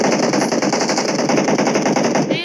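Rapid automatic gunfire rattles in a fast, continuous burst of sharp shots, loud and close, like weapon fire in PUBG Mobile.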